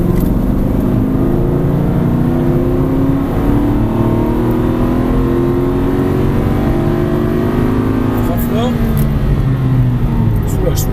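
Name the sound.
Aston Martin V8 Vantage accelerating at full throttle on track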